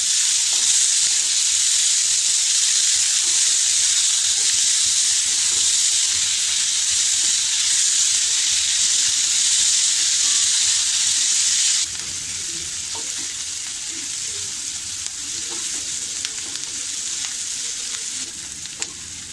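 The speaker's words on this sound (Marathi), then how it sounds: "हा कांदा आपण आता छान लालसर रंग येईपर्यंत आपल्याला परतून घ्यायचा" Chopped onion sautéing in a pan over a medium flame, giving a steady loud close sizzle that drops to a quieter frying hiss partway through, with occasional soft stirring clicks and no talking.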